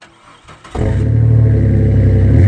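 A 2018 Toyota Tacoma pickup's engine fires up after a quiet moment and revs loudly, holding a deep, rumbling roar close by until the end, with no voices.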